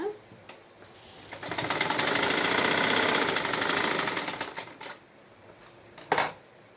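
Sewing machine stitching a blouse shoulder seam, a rapid, rattling run of needle strokes lasting a few seconds, with a few separate clicks and taps before and after, close and moderately loud.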